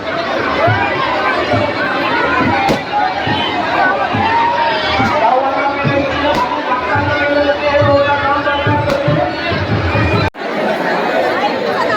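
A dense crowd at a village goddess palanquin procession fills the air with constant loud chatter and overlapping voices, a steady hubbub with no break.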